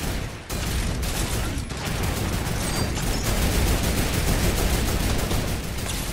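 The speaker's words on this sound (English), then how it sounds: "I'm gonna use the sentry right now." A sentry turret in a video game firing rapidly and continuously, a loud, dense stream of automatic shots that barely lets up.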